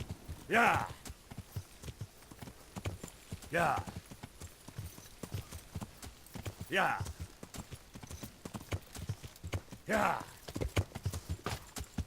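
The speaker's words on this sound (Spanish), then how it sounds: "Y por aquí el caballo no quiere subir." Horse hooves clop along in the medieval RPG Kingdom Come: Deliverance, set in a night-time forest. Four louder, evenly spaced hoof thuds stand out roughly every three seconds over a softer steady clatter, with faint low murmuring underneath.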